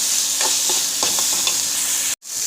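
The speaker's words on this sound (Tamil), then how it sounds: "பொட்டுக்கடலை தோசைக்கல்ல போட்டு வதக்கி விடுங்க" Roasted gram frying on a dosa griddle while being stirred, with a close, continuous sizzle and several quick spatula scrapes before a sudden brief cutoff near the end.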